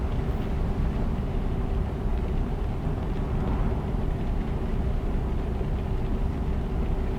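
Steady vehicle engine drone inside a video game, a constant low rumble with a faint tonal hum, unbroken and fairly loud for the whole stretch, with no talking over it.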